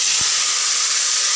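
Washed potatoes hit hot oil with tempering spices, giving a loud, steady sizzling hiss after a short thump, with no voices.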